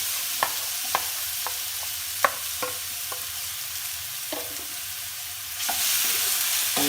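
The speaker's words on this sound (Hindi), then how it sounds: "तो अब हम इससे जो सेब हमने काट के रखे हैं इनको हम फ्राई करेंगे।" Cut apple pieces fry in desi ghee in a wok, a broad steady sizzle punctuated by several sharp spoon taps and stirring knocks. The hiss swells louder near the end, and no one speaks.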